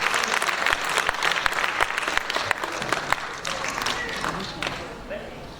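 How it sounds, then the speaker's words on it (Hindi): Sustained audience applause fills a literary award ceremony hall, dense steady clapping with crisp individual claps standing out, holding strong throughout before easing slightly near the end. "एक बार तालियों के साथ अभिवादन।"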